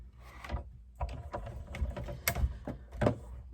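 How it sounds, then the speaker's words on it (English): A hand-cranked die-cutting machine rolls a card sandwich through, with soft irregular mechanical clicks, creaks and rolling thumps up close, fairly quiet with brief pauses. "And put the sandwich down over top and run it through the machine."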